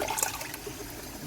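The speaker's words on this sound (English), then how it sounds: "I can now add my stock" Meat stock, the water from cooked chicken and meat, is poured into a simmering Nigerian stew, giving a brief soft liquid trickle and splash that fades quickly, quiet and close.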